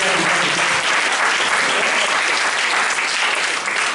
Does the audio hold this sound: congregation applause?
yes